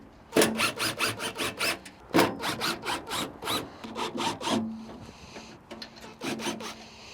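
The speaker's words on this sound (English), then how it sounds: "you can now start to unscrew the 4 screws for the fan" A screwdriver backs out the four blower fan screws on a Camp Chef Woodwind Pro pellet grill, producing close, rhythmic rasping ratchet strokes in several bursts with short pauses between them.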